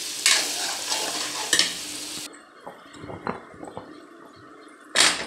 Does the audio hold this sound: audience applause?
no